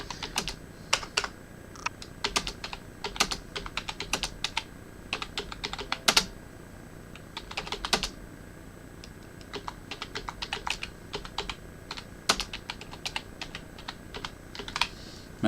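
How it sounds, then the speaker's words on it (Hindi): Typing on a computer keyboard during an elementary computer lesson, with a steady stream of close, crisp key clicks and occasional louder strokes, like a space bar or enter key, continuing throughout with no voice. "जस्ट मैं कुछ कंटेंट टाइप करता हूँ।"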